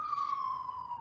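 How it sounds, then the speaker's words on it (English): A siren wails steadily in the distance, its tone slowly sliding lower as it passes, fairly faint with no other sounds over it. "I apologize for the siren coming past your Zoom world"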